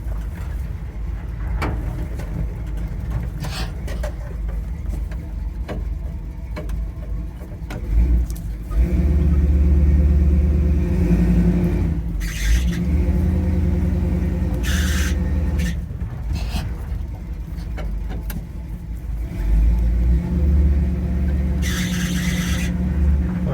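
A 1983 Chevy Scottsdale C10 half-ton squarebody pickup backing down a hill, its engine droning and revving steadily at close range, with squeals and knocks breaking in over the low rumble.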